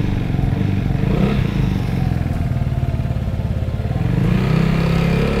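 A Vespa scooter fitted with an aftermarket exhaust rides along steadily, its engine buzzing loud and close with a slight rise in revs near the end, no talking.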